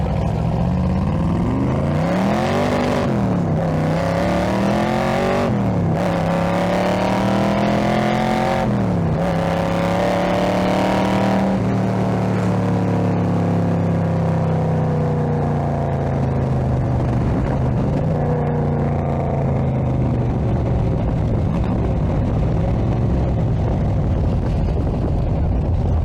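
A car with a 427 engine revs hard and close, rising and falling through several throttle blips and surges, then settles into a long, gradually fading drone with no talking.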